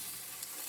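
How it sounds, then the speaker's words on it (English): Calf liver and onions fry in a pan in an RV kitchen, giving a steady, close, crackling sizzle that runs without a break and has no talk over it. "It's frying up."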